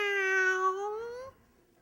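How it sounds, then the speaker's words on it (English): A cat gives a single drawn-out meow in an old-time radio comedy. It is clear, close and tonal, rising slightly at the end before cutting off into near silence. "What's that? What's that? Go away, cat."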